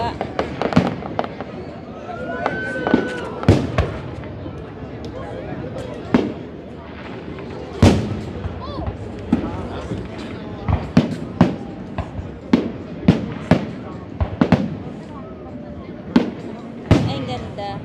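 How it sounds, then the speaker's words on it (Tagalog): Canada Day fireworks in Regina, Saskatchewan pop and crackle repeatedly, some sharp nearby bangs and others fainter and low, while people talk and exclaim throughout. "Yung ibang paputok, mababa."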